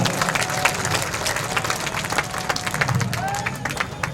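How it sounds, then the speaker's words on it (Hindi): A large crowd claps and cheers at a political rally celebrating an election win, with dense, steady applause lasting the whole stretch and murmur mixed in. "दोनों हाथ ऊपर उठाकर तालियां बजा दीजिए जरा"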